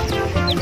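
A quick, close chicken cluck near a river, a short throaty burst with a couple of higher chirpy notes over steady background noise.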